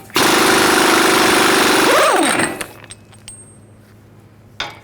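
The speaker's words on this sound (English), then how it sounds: "Use a 36mm socket. Take the axle nut off." Loud, dense metallic clatter of a powered tool working loose the 36mm axle nut on a 2002-06 Chevy Avalanche front axle, running steadily for about two and a half seconds and then winding down to a quiet hum, with a short knock near the end.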